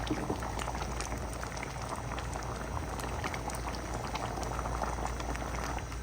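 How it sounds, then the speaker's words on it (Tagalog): Ginisang monggo, a mung bean stew, bubbling at a steady rolling boil in a pot, a dense continuous simmering fizz and pop with no talking. "Ayan na po, kumukulo na."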